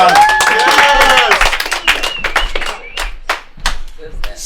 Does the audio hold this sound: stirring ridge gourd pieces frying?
no